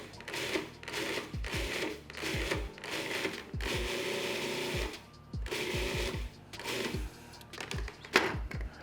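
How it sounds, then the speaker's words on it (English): Food processor pulsing fresh sage into flour in a home kitchen, a repeated motor whir in short bursts of about a second each, with clunking starts and stops, close and moderately loud. "I'm just going to be putting that into the food processor to start out with. And I'm just gonna pulse this a few times"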